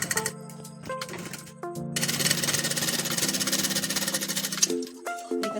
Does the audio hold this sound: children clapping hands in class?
no